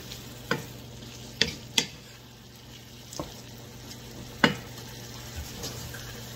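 Bacon cooks in a pan with a soft, steady sizzle under several sharp clicks and clatters of a utensil against the pan, close by, with no talking.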